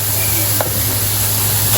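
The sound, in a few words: pork liver added to pan and stirred, sizzling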